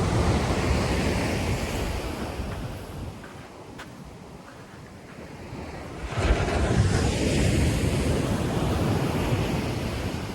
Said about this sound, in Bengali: সমুদ্রের গর্জনটা শুনলে মন একদম ঠান্ডা হয়ে যায়